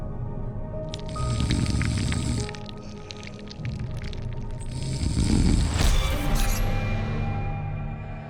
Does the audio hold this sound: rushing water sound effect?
yes